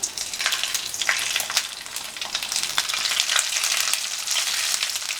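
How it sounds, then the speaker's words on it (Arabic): Stuffed mombar, Egyptian sausage casings, frying in oil and ghee, giving a dense, continuous crackling sizzle with sharp popping spatters, loud and close throughout with no voices. "هنبتدي نحمر بقى الممبار بتاعنا"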